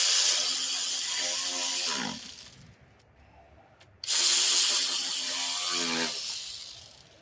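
A ratchet tightens the valve cover bolts on a 2003-2007 Honda Accord, two bursts of fast close clicking separated by a near-silent pause, with a faint hiss behind them.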